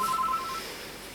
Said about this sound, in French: Ah tiens, le téléphone, je cours répondre.